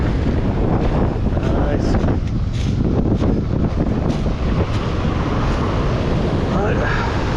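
Strong wind buffets the microphone on a beach while fishing, producing continuous loud roaring gusts throughout, with a brief spoken word under the noise.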